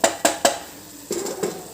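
A spoon stirs dal with asafoetida in a pan: three sharp metallic knocks in quick succession, a short pause, then a couple of scraping strokes, close and loud.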